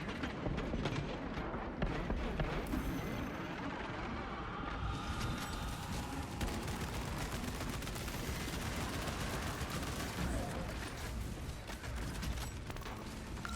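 Gunfire in the shooter game Arena Breakout with an auto bolt rifle: dense, continuous bursts of shots and loud mechanical clatter filling the whole stretch, close and harsh.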